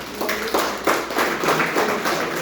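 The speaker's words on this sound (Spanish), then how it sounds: "Denle un aplauso al Señor." Congregation applauding in church, a roomful of hands clapping together in loose rhythmic waves, loud and sustained with reverberant hall tone.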